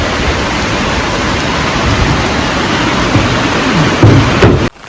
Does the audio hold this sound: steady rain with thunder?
yes